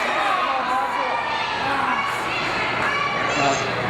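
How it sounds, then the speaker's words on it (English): Wrestling crowd at an APCW main event between Damien Bennett and Jaxson James, shouting and chanting together in a steady, loud roar with scattered voices standing out, continuous throughout. "Crowd saying, break it."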